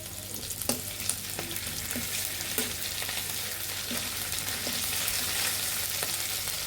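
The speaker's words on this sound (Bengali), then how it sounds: "আদা আর রসুন বাটাটা ভালোভাবে ভেজে নিতে হবে" Ginger and garlic paste frying in a pan, a steady close sizzle punctuated by regular spatula taps and stirring scrapes about once a second, with no talking.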